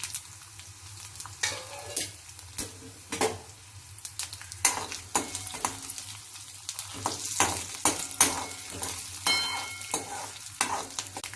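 Black pepper, cumin and fenugreek stir-fried in oil over medium heat for a milagu kuzhambu: a steady close sizzle broken by repeated sharp scrapes and clatters of a spoon against the pan, with no talking.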